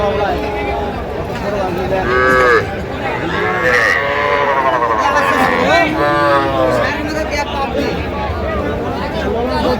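Young bull and heifer calves at a crowded village cattle market in Raniganj, with bleats and moos rising over a steady hubbub of people talking nearby.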